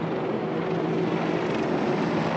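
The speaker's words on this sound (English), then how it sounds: "Look at this, people. Choppers." Helicopters fly over Tower Bridge in London, making a steady, moderately loud whirring drone that hangs overhead through the whole stretch without fading.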